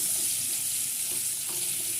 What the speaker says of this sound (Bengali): পটলগুলোকে একটু ভালো করে ভেজে নেব।